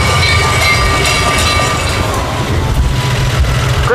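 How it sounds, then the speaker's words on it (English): A train rolling past during a haunted hayride, a steady loud rumble and rattle of rail cars with a continuous clatter lasting throughout, close by and unbroken. "Wait, is that the train coming right at us?"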